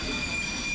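A London Underground train runs on the rails with a steady, loud rumble and a high, continuous squeal of wheels.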